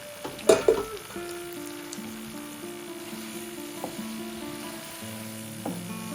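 Cooked gnocchi tipped into blue cheese sauce in a pan, with a couple of sharp clatters at the start, then a gentle sizzle and bubbling and some faint tonal hum, close and quiet.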